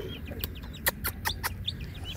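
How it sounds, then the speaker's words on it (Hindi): Fancy ornamental hens cluck in a backyard coop at feeding time, a series of short, sharp clucks and calls in quick irregular bursts, fairly close, with faint background noise. "फैंसी मुर्गी है माशाल्लाह, बहुत प्यारी प्यारी मुर्गी है।"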